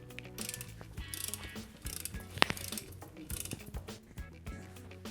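A torque wrench set to 10 newton-metres ratchets while tightening a bicycle seat clamp, dry mechanical clicks close by with one sharp snap midway, quiet and alone.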